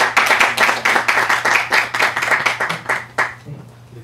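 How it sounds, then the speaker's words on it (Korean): Audience at a book concert clapping steadily for about three seconds, a dense patter of many hands that thins out and fades near the end, with a low steady hum underneath. "선생님에게 박수를 주십시오"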